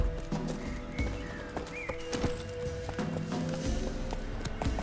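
Roach the horse galloping in a video game, rapid hoofbeats clip-clopping steadily and close, with a background score and occasional effects layered over them.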